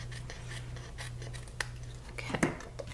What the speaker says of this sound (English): so I'm going to just trim that down.